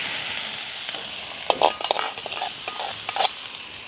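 Cardamom and leeks stirred and frying in a pan, a steady sizzle running throughout with scraping stir strokes clustering in the middle and near the end, no voices.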